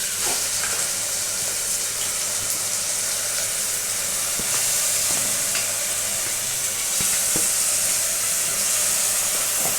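Marinated mutton sizzles and spits in a hot pan for a Bengali mutton kosha, a dense, continuous frying hiss with occasional sharp crackles and stirring scrapes.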